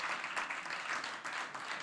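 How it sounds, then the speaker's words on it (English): An audience at a journalism award event claps for an honoree, brief, quiet applause heard from some distance without any voices. "let's give him a round of applause."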